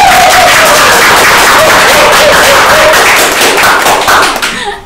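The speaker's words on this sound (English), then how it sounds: "How about to give them a round of applause?" Loud audience applause, dense clapping from a crowd that carries on for several seconds before tapering off at the end.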